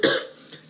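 A pregnant woman gives a single short cough, close and fairly loud, with a breathy throat-clearing quality that fades quickly.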